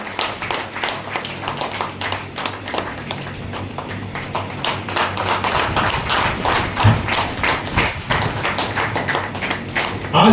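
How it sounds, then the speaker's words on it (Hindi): Dense applause from a crowd welcoming a guest at a memorial meeting, sustained and close throughout, a steady wash of many hands clapping. "तालियों की गड़गड़ाहट से पंकज साहू जी का स्वागत करें हम लोग"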